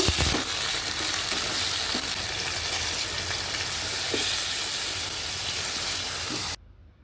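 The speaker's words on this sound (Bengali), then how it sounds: "এখন তেলের মধ্যে ফোড়নে দিয়ে দিলাম শুকনো মরিচ, একটু গরম মশলা দিয়ে দেবো, একটু জিরা" Dried red chillies, garam masala and cumin seeds tempered in hot oil give a loud, steady broadband sizzle with a few soft clinks, continuing alone for about six seconds before dropping off sharply near the end.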